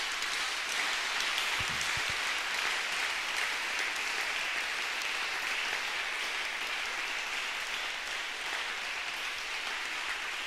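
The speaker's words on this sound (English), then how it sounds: "Just give a clap offering to Jesus." A church congregation claps together in a dense, sustained wave of applause that holds steady for several seconds, with no voices over it.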